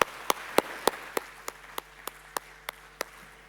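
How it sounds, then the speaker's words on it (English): Applause at a housing conference comes as slow, evenly spaced claps, about a dozen crisp hand strikes in a steady rhythm, close and clear with no talk over them. "Round of applause, please."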